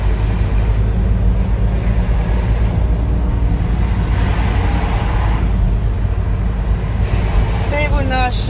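A Dutch semi-truck rolls along the road, heard from a motorcycle on the Mergelland Route as a loud, steady roar of engine and wind noise with a faint tonal whine near the end.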